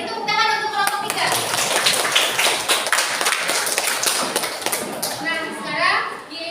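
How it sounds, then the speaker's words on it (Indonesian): Classroom audience claps for a presenting student group, dense clapping filling the room for several seconds, with children's voices mixed in. "Beri tepuk tangan untuk kelompok 3."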